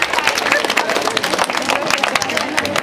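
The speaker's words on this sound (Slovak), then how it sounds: "naozaj jeden veľký potlesk ešte pre našu Katku a rodičov za ich obrovskú starostlivosť" Applause and cheering from a crowd gathered at a charity run in Veľký Lapáš for Katka and her parents, dense steady clapping mixed with crowd babble throughout.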